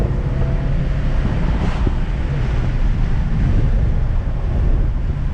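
A 40-year-old Mercedes 300D diesel is floored from a low speed toward 45 mph with the windows down. Steady loud engine roar mixes with heavy wind rush and low rumble, continuous with no talk.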